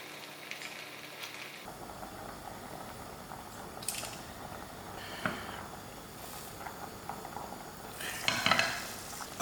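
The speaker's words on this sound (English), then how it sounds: "So I'll add my butter to the pan and let it start to melt." Butter melts in a pan with a soft, low sizzle and scattered scraping and clinks of stirring, with a few louder bursts near the end and no talking.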